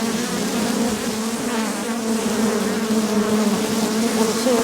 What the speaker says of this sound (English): It's covered with bees.